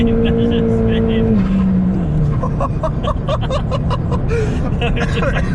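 A Ford Fiesta ST on a Revo RT330 tune does a full-boost burnout. A loud engine roar drops in pitch over broad tyre-spin noise with rhythmic pulses, and laughter is heard inside the car.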